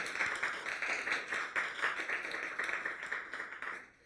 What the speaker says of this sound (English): I would like another round of applause for all of our Civic scholars.